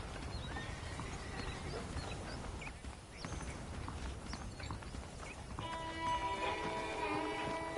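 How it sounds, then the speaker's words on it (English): Saddled horses in the Red Dead Redemption video game, with steady clip-clop hoofbeats over outdoor ambience and a whinny, followed by a brighter musical layer near the end. "The horses are saddled up over here."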